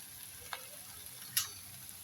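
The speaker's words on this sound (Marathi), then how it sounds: "या भाज्यांना चांगली आपण एक वाफ येऊ देऊ" Vegetables for a sandwich filling sizzle and steam softly in a pan, a faint steady hiss broken by a couple of small crackling pops.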